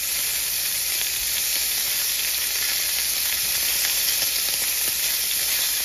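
Lamb chops basted with mint chimichurri sizzle loudly and steadily in a frying pan, a dense continuous hiss with no talking.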